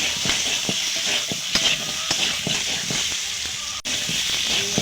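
Spices with turmeric and salt stir-fried in a pan for an egg curry, giving a constant close sizzle and hiss broken by regular scraping stirs of a spoon against the pan.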